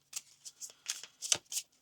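Oracle cards are shuffled and drawn from a pile, a series of about six crisp, close riffling and sliding bursts with brief pauses between them and no voice over them.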